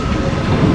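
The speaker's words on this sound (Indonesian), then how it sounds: "kereta KRL tujuan Ancol sampai dengan Tanjung Priuk masuk ya, masuk di jalur 8" KRL commuter train pulling into platform 8 at a station on the Ancol–Tanjung Priok line, a steady close rumble of rolling railcars with faint clickety-clack of wheels, brief and continuous.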